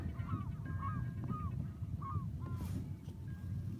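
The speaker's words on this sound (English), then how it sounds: "And along with us out here are a bunch of birds." Several birds give short honking calls, like geese, spaced irregularly over a constant low rumble of wind or engine noise, out on the sea in the San Juan Islands.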